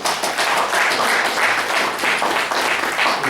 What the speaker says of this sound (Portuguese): Salva de palmas, por favor.